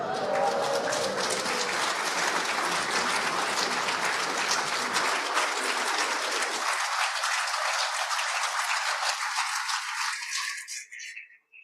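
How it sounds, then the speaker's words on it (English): A synagogue congregation at a Shabbat morning service applauds a 102nd birthday, sustained close clapping from a full room that fades to silence at the end. "The applause is wonderful and well merited."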